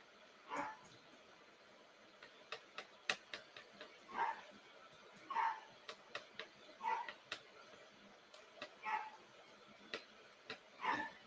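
Small dog barking indoors in repeated short yips spaced every second or so, faint and fairly distant, with light clatter between barks.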